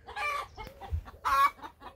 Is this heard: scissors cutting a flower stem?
no